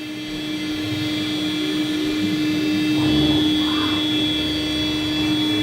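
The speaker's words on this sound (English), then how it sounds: "We're doing an air cut" CNC router with a Masso controller running an air cut just above its vacuum board, a steady loud whirring drone with a constant high whine that holds unchanged throughout.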